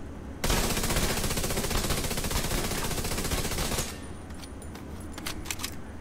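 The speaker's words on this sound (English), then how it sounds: "We are going to be firing at a named enemy target at 5 meters. Here's the FAMAS." A FAMAS rifle fitted with a stability mod and 20-round magazine fires at a named enemy target five meters away in The Division 2, a loud continuous burst of rapid automatic shots that cuts off and leaves a quieter tail.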